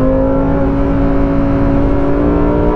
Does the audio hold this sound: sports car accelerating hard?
yes